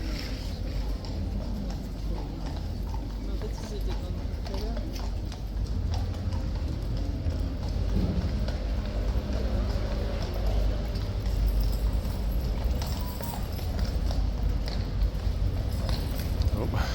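Hooves of Life Guard troopers' horses clip-clop steadily at a winter cloak inspection on Horse Guards parade ground, a continuous busy patter of many horses mixed with crowd murmur and low background noise.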